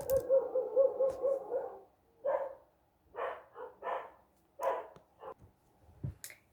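Dogs barking late at night, a long run of barks up front followed by scattered single barks and short pairs separated by pauses, moderately close and rough in tone.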